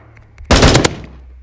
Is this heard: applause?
no